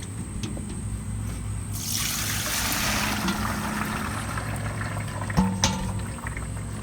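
Water carrying cucumber seeds pours out in a steady, close trickling stream, swelling into a fuller gush for a few seconds before settling back, with a couple of small knocks near the end.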